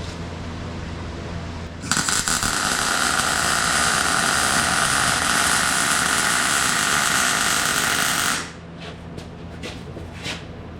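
Solid-wire welding on the arm end of a Bobcat T200 skid steer, building up a worn bushing, gives a loud, steady crackling buzz lasting about six and a half seconds. It starts and stops sharply over a low background hum.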